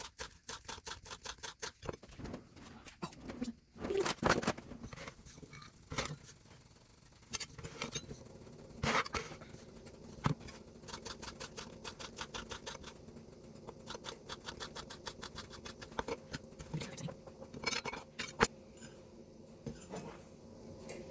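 Scissors snip chives into a bowl with quick, crisp, repeated clicks, faint and close, alongside light clinks of kitchenware.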